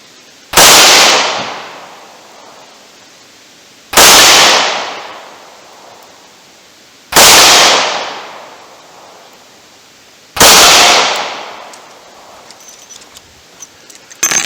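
Four loud, sharp gunshots from a .38 snub nose revolver fired outdoors at a target, evenly spaced about three seconds apart, each with a crisp crack and a trailing decay.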